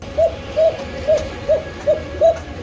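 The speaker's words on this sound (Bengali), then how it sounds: "ব্ল্যাক কালার মধ্যে লাহরি জ্যাকোবিন হল জ্যাকোবিন কবুতর" Jacobin pigeons coo nearby in a steady series of soft, rounded calls, about six evenly spaced coos over a quiet background.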